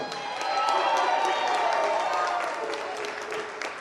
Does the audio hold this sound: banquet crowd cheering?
yes